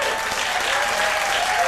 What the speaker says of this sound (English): I think I deserve another round of applause